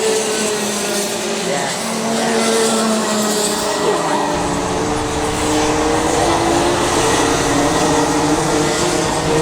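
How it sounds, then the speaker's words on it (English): Race cars on a clay oval track drone and whine continuously, with engine pitch rising and falling as they circuit, forming a dense, steady mechanical roar. "Jake's just driven over the back of Zach's car"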